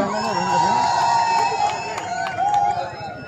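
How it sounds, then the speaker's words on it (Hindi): A crowd cheers and shouts continuously in the open at a volleyball match, with some clapping and excited voices mixed in. "जोरदार तालियां"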